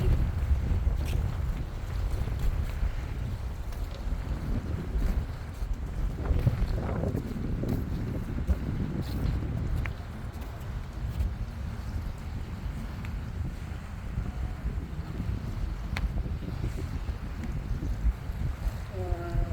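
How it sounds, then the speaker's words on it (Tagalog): Continuous wind rumbles against the microphone at a beach throughout, a steady low roar with occasional gusts and faint water-like noise behind it. "Mahangin kasi"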